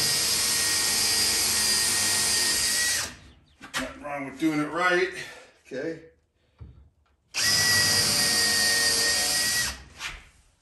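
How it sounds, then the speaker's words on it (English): A power drill whirs loudly in two sustained bursts, drilling holes while installing kitchen cabinets, separated by someone speaking briefly in between; close and steady high-pitched motor whine. "Drill holes."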